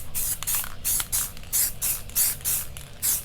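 Suede headliner for a Pontiac G6 panoramic sunroof liner getting a light color coat from a spray can, in about ten short hissing bursts at a steady rhythm, close and fairly loud, with no talking.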